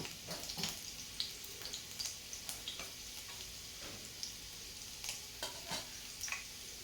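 Garlic fries in already hot oil for dal bhatti, a soft bubbling sizzle punctuated by sharp stirring clicks and taps of a spoon against the pan, fairly quiet throughout.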